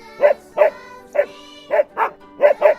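A small dog named Ziggy barks excitedly at a lakeside, a rapid series of seven sharp, close, loud yaps in an uneven rhythm with no other sound between them.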